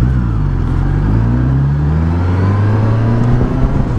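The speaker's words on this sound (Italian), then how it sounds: "Il rombo dell'Euro 5, 4 cilindri, c'è sempre." Suzuki GSX-S 1000 GT motorcycle with a Euro 5 four-cylinder engine roars loud and close, its pitch climbing smoothly as it accelerates through rising revs, with no speech.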